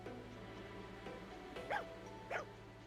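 A dog barks in the video game Fire Emblem Engage: two short, fairly quiet yips about half a second apart, set over a steady low game music bed.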